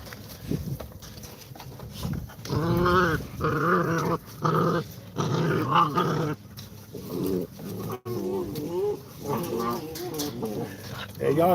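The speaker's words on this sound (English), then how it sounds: "y'all ever notice how you get two dogs on the outside the fence, y'all? They just go crazy like they're really tough" Two dogs at a kennel breeding Americane da Presa growl and snarl at each other through a fence in a run of harsh, rising bursts, close and loud, broken by brief pauses.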